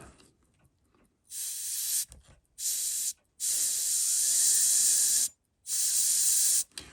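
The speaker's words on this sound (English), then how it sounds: "I'll get some canned air and I'll just spin it a lot" Canned air sprays in four loud hissing bursts, each about half a second to two seconds long with short gaps, blown at a Seiko 6139 watch part to spin it.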